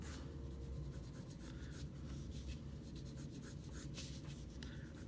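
A pencil draws lines on paper for a design sketch, making continuous soft scratchy strokes that come in quick repeated passes, close and quiet, with no talking.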